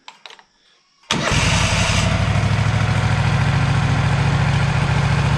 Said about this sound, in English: Go ahead and fire it up, Kate.